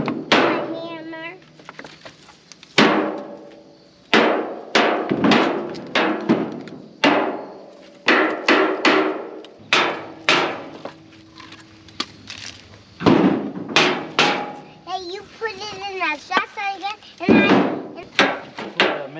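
Repeated sharp hammer blows while repairing an old, broken firewood cart, struck in irregular bursts close by, with people talking between strikes.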